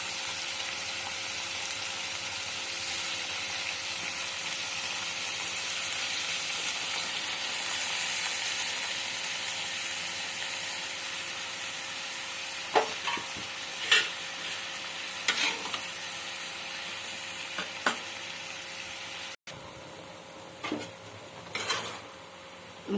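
Vegetable pieces fry in a pan with a steady, even sizzle, joined in the second half by several sharp scrapes and clatters of a spoon stirring against the metal.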